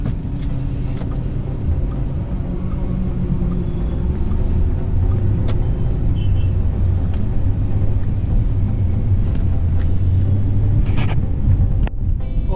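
Audi RS5 Coupé with a 4.2-litre naturally aspirated FSI V8 being driven, a steady loud engine drone and road rumble heard from inside the car, with no talking.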